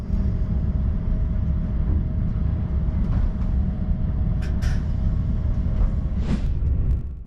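A KTX high-speed train in South Korea runs along the line, heard from inside as a loud, steady low rumble with a faint constant tone and brief hissing bursts.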